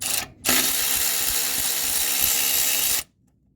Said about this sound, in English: So I've got to take these two little, looks like 10 millimeter bolts out to free this bracket up.